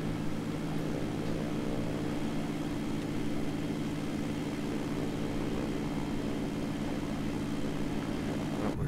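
Steady low engine drone of aircraft around an Amsterdam airport with A320s parked nearby, a continuous rumbling hum with strong low harmonics that holds evenly throughout with no talk.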